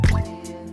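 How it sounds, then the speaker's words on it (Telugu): Water drips steadily onto a Shiva lingam at a temple on the Baahubali film set in Ramoji Film City, with one close liquid splash at the start followed by a short ringing tail. "కంటిన్యూగా వాటర్ ఫ్లోటింగ్ అయితే ఉంటుంది"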